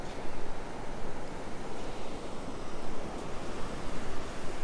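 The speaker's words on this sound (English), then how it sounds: "Waves not too big today." Gentle surf breaks steadily on the shore at Myrtle Beach, South Carolina, on a day of small waves and little wind, a continuous near wash of rolling water with no voices.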